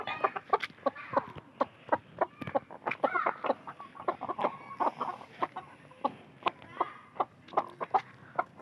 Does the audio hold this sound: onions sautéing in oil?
no